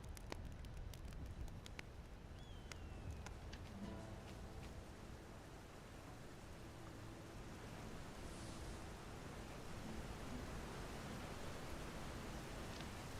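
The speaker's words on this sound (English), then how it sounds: "Oh, I hear the fire crackling up there." Fire crackles steadily in a modded Skyrim game world, a dense broadband hiss with scattered sharp pops near the start, continuing alone without voices for the whole stretch.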